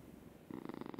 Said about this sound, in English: Oh, the purrs.